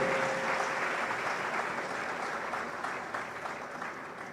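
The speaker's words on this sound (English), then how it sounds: "Another round of applause for our Dean" Sustained crowd applause for the Dean at a pharmacy white coat ceremony, a dense steady wash of many hands clapping from a large audience, moderately loud and fading slightly toward the end.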